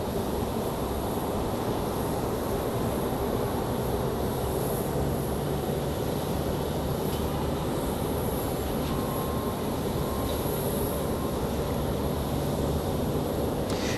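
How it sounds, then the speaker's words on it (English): Breeze Airways airliner from West Palm Beach at Raleigh-Durham airport, a steady broadband jet engine roar that holds loud and constant throughout with no voices. "As we turn to our Breeze Airways from West Palm"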